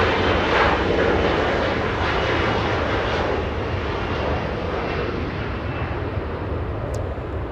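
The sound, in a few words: very loud arriving jet airliner at LAX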